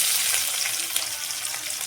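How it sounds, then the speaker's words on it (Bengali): Chopped onion and ginger frying in oil in a pan for egg curry, giving a steady, close, dense sizzle that holds evenly throughout, with no voices. "এখন আদা ফালা পেঁয়াজ কুচি ভেজে নিব"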